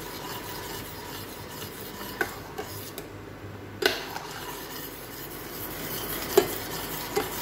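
A spoon scrapes and stirs steadily through a thickening watermelon jelly mixture with cornflour in a pan, a soft continuous rasp with occasional light taps against the metal.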